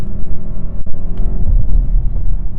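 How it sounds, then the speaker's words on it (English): A Mercedes S63 AMG E Performance engine drones steadily from inside the cabin, a low, smooth hum with slight swells as it runs, loud and close, with engine sound piped into the cabin. "You are more hearing the engine note with the pumped in audio"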